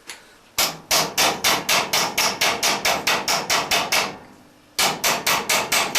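A small hammer strikes round copper pipe set on a square block of wood, shaping it in a fast, even run of sharp metallic blows, pausing briefly and then resuming, close and loud.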